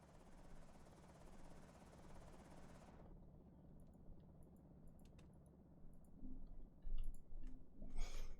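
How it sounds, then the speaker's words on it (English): Helicopter rotor chop inside a video game, broad and steady for the first few seconds before cutting off abruptly, leaving faint clicks and a low rumble from the blizzard setting, with a few louder bumps near the end. "It came during a blizzard. Helicopter and blizzard."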